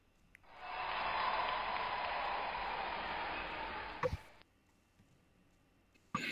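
A canned crowd-goes-wild effect: a broad, roaring wash of cheering and applause swells in quickly, holds steady for about four seconds, then cuts off abruptly, leaving near silence with a couple of faint clicks.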